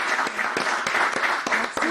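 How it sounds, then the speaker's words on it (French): A TV studio audience claps steadily for about two seconds, a dense, even patter of many hands with a few sharper individual claps standing out. "On applaudit pour Tati,"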